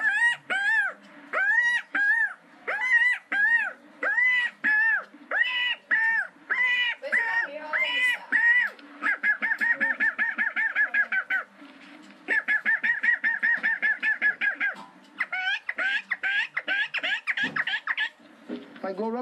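The laughing eagle bird, also called the Uyu or walk-home bird, delivering a long series of loud, rhythmic, rising and falling calls in rapid bursts, with short pauses between the phrases and a voice speaking at times.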